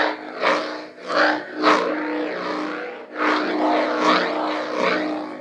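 A toy lightsaber gives off a buzzing, engine-like hum that swells and fades in repeated sweeps, loud and close, with no talk over it.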